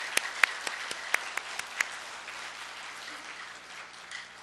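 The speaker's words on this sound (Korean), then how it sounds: "지휘자, 반주자, 우리 대원들께 우리 한번 박수 한번 하겠습니다." A church congregation applauds the choir's conductor, accompanist and members, a moderate burst of clapping with a few sharp distinct claps early on that thins and fades away.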